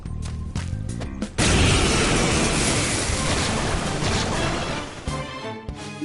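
A gun fired at a shadow in Persona 5 sets off a sudden loud blast that roars on as a dense, sustained burst for several seconds before cutting away.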